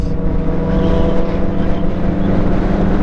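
Steady engine drone of a Yamaha R9 motorcycle being ridden, probably on a track, with a loud continuous hum and even tone and no speech over it.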